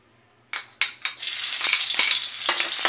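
Chopped garlic dropped into hot cooking oil, a few sharp splashing hits giving way to a steady, loud sizzle and crackle of frying with occasional stirring clatter.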